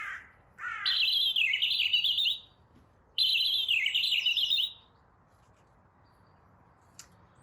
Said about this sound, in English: if I press him, he should be able to sing to you and you'll be able to figure out what a robin sounds like